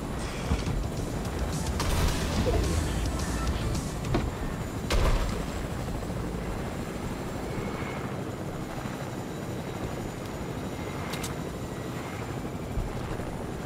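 A helicopter in the Fortnite video game gives a steady, fairly loud rotor and engine drone that runs through the whole stretch, with a few short bumps and clicks of game effects on top.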